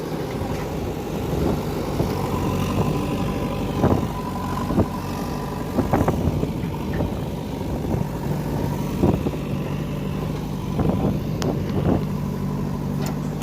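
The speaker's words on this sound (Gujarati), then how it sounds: "અને અત્યારે રમેશભાઈનું ટ્રેક્ટર ભરાય છે" Tractor engine idling steadily nearby while soil is loaded into it by a JCB at a pond-digging site, with scattered clunks and knocks over the constant rumble and no talk.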